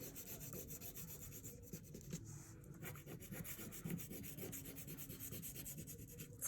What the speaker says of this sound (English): I'm just gonna go along my sand